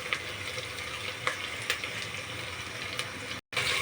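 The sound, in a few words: frying tomatoes with onion in oil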